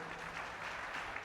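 A church congregation claps together in a dense, even wash of applause that carries on steadily without any speech over it.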